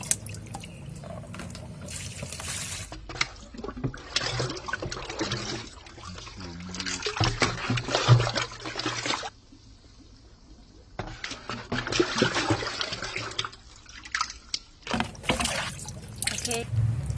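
Rice-washing water poured from a container onto homemade compost, a close trickling and splashing stream in bursts with short pauses, and a voice talking over it.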